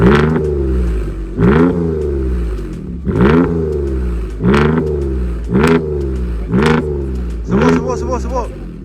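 A Mercedes C350 V6 coupé with its exhaust valve open revs repeatedly, about seven loud, close blips rising and falling over a steady idle rumble.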